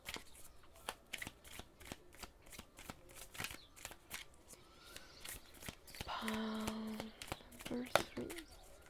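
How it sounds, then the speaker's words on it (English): A tarot card deck is shuffled by hand close up in a rapid series of crisp riffling snaps, with a brief voice-like tone partway through. "the way that I'm doing right now, which is shuffling on camera"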